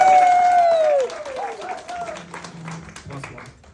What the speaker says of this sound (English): can we get a round of applause for these two?